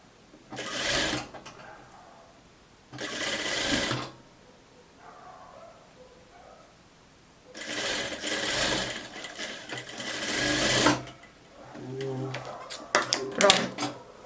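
Sewing machine stitching a blouse facing in bursts: four loud whirring runs of rapid stitching separated by pauses, with someone talking quietly between runs.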